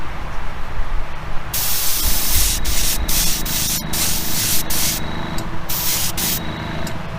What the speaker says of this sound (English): Make sure the gun's spraying right.